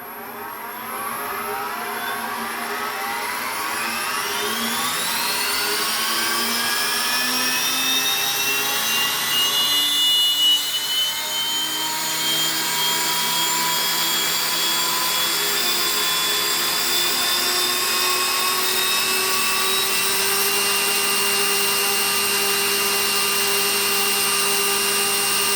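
Goblin 700 RC helicopter on a 12S electric system spooling up under throttle, a loud whine rising steadily in pitch over several seconds and then holding a high, even tone, with no talking.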